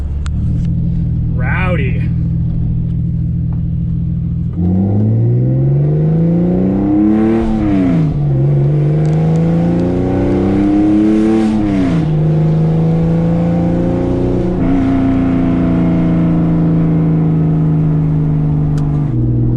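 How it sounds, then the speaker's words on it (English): A Porsche 996 flat-six engine with a new exhaust idles with a deep, rowdy exhaust burble, then revs up and falls back several times, loud and close throughout. "New exhaust is rowdy."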